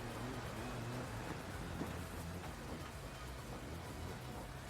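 Steady game rain from the Dirt 4 rally game, a continuous broadband hiss falling evenly throughout with no talk over it.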